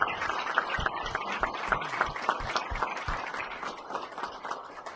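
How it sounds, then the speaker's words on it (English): Applause at an FFA awards event: a crowd claps steadily at moderate volume, slowly tapering off toward the end, with a little background talk. "Let's give them a round of applause."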